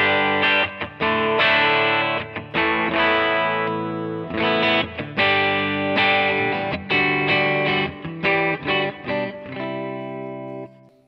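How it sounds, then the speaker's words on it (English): Clean, bright Vox-style electric guitar tone from a Kemper Liquid Profile, played loud and alone as a run of strummed chords and picked phrases with short gaps, ending on a long ringing chord. "And it's going to sound now clean like this."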